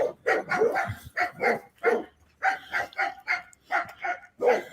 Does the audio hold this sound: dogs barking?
yes